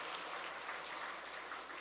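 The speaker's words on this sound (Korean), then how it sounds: "하나님께 다시 한번 영광의 박수 한번 하겠습니다" A church congregation at a Sunday morning service applauds in a steady, dense patter that sounds faint and distant.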